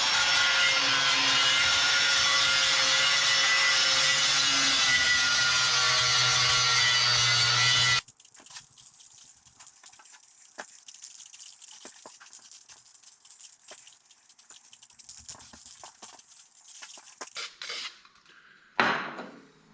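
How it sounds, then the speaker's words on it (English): Welding slag is cleaned off a steel skid plate for an FJ Cruiser. About eight seconds of loud, steady abrasive grinding stop abruptly, followed by quieter scattered scraping, tapping and rubbing, then a brief louder scrape near the end. "now I'll just clean up some of this slag a little bit"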